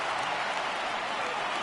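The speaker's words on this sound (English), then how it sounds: "Crowd gets up for the 3-2." A stadium crowd in a PS4 baseball game rises for a full 3-2 count, making a dense, steady wash of cheering and applause that stays level throughout, without distinct voices.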